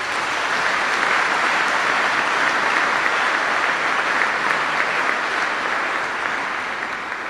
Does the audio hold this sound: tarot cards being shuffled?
no